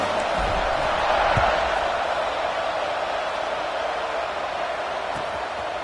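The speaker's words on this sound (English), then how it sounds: "this crowd is buzzing after that last score" A stadium crowd in a football video game buzzes in a steady, dense roar after a score, swelling briefly early on and then easing slightly.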